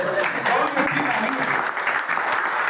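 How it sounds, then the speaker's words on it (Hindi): A crowd claps together in a dense, sustained burst of applause, with voices mixed in underneath. "बहुत अच्छा ताली बजाई"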